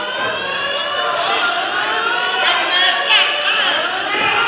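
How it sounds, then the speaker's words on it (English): A building fire alarm sounds steadily through a crowded fight-night venue, its repeating electronic tones continuous over loud crowd chatter and a commentator's voice throughout. "Looks like there's a fire alarm going off in the building."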